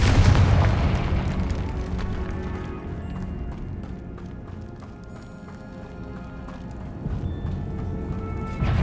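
A Confringo fire spell explodes in the video game Hogwarts Legacy, opening with a loud, deep boom that rumbles and fades into dense crackling combat noise and scattered impacts, swelling again at the end.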